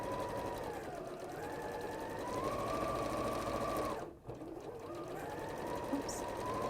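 Sewing machine stitching quilt pieces for a star quilt, a steady close mechanical whir with rapid needle chatter that briefly drops out and restarts, under faint talk.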